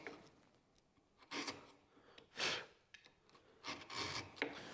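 Chisel paring excess wood during chair building in a small workshop, several quiet rasping strokes in separate bursts, close and faint, without speech.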